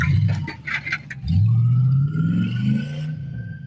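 A stolen truck's V8 engine roars and revs up, a deep rumbling growl rising in pitch over a couple of seconds, loud and close, after a few scattered clatters.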